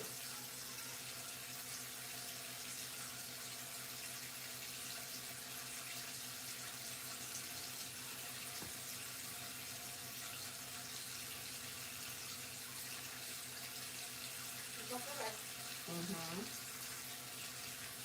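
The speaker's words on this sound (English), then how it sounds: "Probably all you guys can hear is the sink running." A kitchen sink tap runs in a steady, even hiss of flowing water for the whole stretch, with a brief bird chirp near the end.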